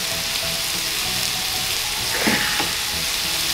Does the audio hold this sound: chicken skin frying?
yes